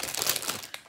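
Crinkly plastic packaging from a Stanhome order is pulled open, producing a burst of rustling and crackling close by for about a second, with no voices.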